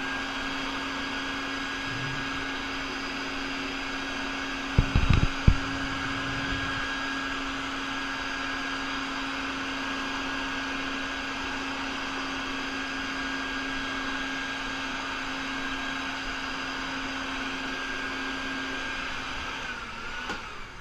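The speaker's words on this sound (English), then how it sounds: "Here is the time where I usually vacuum out for the third step to get the extra sheddings that have gone through" A vacuum cleaner sucks shed mealworm skins out of the bins, a steady, droning motor whine that holds for about twenty seconds, with a brief rattling clatter near the start where the nozzle knocks against something.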